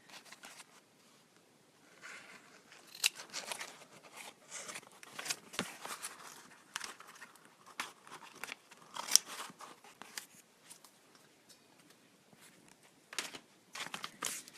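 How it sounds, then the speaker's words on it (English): Scissors cutting a paper envelope, with soft irregular snips and crinkling paper rustles in quiet, close bursts spread over about fifteen seconds. "I'm going to cut off this one over here too"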